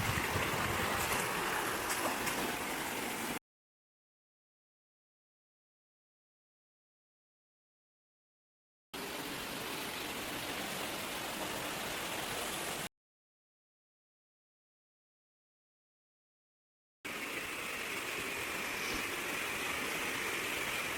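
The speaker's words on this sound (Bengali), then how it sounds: "হাটুভাঙা হরিণমারা ট্রেলের 3 নাম্বার যে ঝর্ণাটা আছে" Water pours down the third waterfall on the Hatubhanga Harinmara trail in a steady, dense roar, heard in three separate stretches with silent gaps between them.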